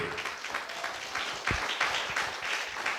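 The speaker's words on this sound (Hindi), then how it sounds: "अच्छा से बजाओ ना ताली" A church service audience clapping together at moderate volume, a scattered but continuous patter of hands with one louder thump midway.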